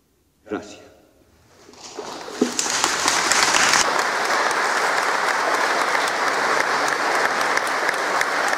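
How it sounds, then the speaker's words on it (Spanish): A church congregation at a golden jubilee Mass for a priest in the parish of San Juan Bautista breaks into applause. It starts after a brief voice, swells quickly and holds as dense, loud, sustained clapping. "aplausos en honor a don Asterio Cabrera, que hoy celebra sus bodas de oro sacerdotales en esta parroquia de San Juan Bautista."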